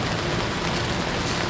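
Steady rain pours down outdoors around a hot fire, a dense, even hiss of falling drops with no pauses and no voices.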